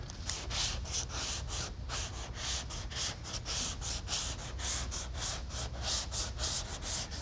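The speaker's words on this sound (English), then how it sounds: "you want to match your sander to your surface, and this rounded block fits in this hood peak area perfectly." Rounded sanding block rubbed over the hood peak of a Ford F100 truck, a close, continuous rasping scrub in quick back-and-forth strokes with no talking.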